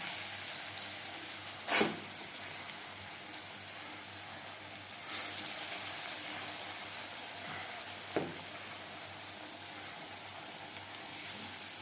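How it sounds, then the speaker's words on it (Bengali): Jute leaf pakoras shallow-fry in oil over a medium flame, giving a soft, steady sizzle with a few sharper clatters and stirring knocks, fairly quiet and close, no one speaking. "বড়া বা পাকোড়া ভাজবো মিডিয়াম ফ্লেমে"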